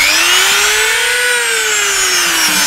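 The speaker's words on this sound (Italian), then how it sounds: "Come Dremel vi suggerisco la punta con la sfera piccola, non quella appuntita appuntita, quella con la sfera piccola fora meglio e fa forellini tondi tondi" A Dremel rotary tool fitted with a small ball-tipped bit drills a tiny round hole in a small seashell, giving a steady, loud high-pitched whine whose pitch rises slightly and then falls back, with no speech.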